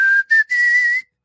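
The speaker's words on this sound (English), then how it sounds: "this song, with that awful whistling at the beginning" A whistled melody opens a pop song from around 1991. It is a clear, bright tune heard alone, in three sustained phrases with short breaks between them, ending on a brief faint note.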